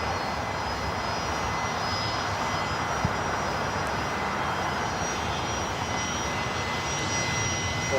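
Jet aircraft arriving at LAX from Van Nuys, a steady broadband roar of engines holding at constant loudness with a faint high whine, heard alone.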